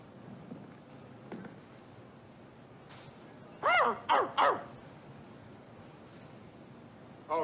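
A man imitates a dog with a can tied to its tail, giving three quick, loud yelping barks in a row, then one more after a pause, over quiet room tone.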